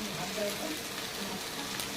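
Fried potatoes going into a prawn and poppy seed curry with ridged gourd, a steady close sizzle of frying filling the pan with faint stirring beneath.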